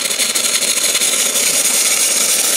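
Espressione Supremma espresso machine steam wand purging, a loud, steady broadband hiss of escaping steam that fills the whole stretch without a break.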